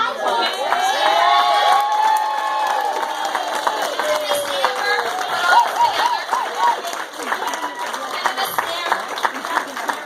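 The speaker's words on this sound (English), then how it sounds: "Can we give them one more round of applause?" An audience applauds and cheers after a children's Christmas nativity play, with steady clapping, excited children's shouts and voices talking over the crowd noise throughout.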